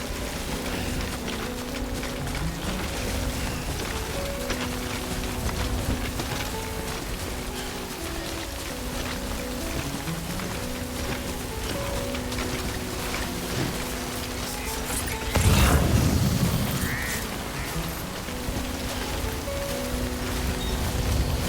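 Steady rainfall in the game Death Stranding, a continuous hiss of drops on surfaces under a soft tonal music bed, with one brief louder rushing swell partway through.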